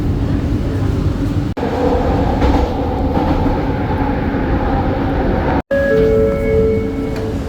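A train rumbles steadily at a station platform in Malaysia with loud mechanical noise, then brief high whining tones sound as it comes to a stop.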